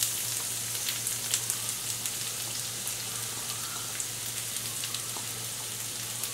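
Onions frying in a couple of tablespoons of hot oil in a pan, a continuous bright crackling sizzle with faint pops and a low hum beneath, steady throughout and without talk.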